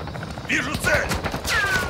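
Gunfire in the video game Call of Duty: Warzone 2, a short burst of sharp shots and impacts with whooshing effects in a team match, close and loud, over a faint game background.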